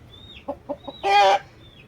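A Bhimavaram breed rooster, a pure young cockerel for sale, gives three short soft clucks followed by a louder, longer squawking call, close and clear with no talk.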